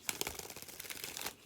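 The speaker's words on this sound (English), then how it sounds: "That shuffle was a dud." Tarot cards are shuffled by hand close up, giving a quick run of crisp riffling and flicking snaps over a second and a half with no talking.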